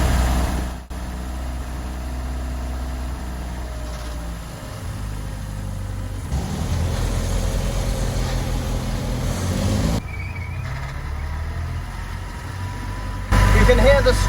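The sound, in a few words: Triumph straight-cut first gear whine while driving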